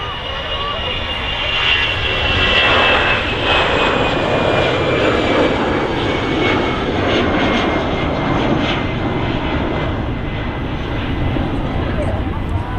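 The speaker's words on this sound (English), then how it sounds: "so the 757 sound, Rolls-Royce RB211s" Boeing 757 with Rolls-Royce RB211 engines taxiing past close by at Manchester Airport: a loud, rising-then-steady jet roar with a thin whine on top that sweeps by at short range.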